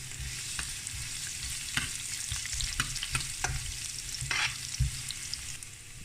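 Garlic sizzles steadily in a hot pan after ginger for a sweet and sour fish fillet dish, with occasional stirring clicks and scrapes over a continuous frying hiss.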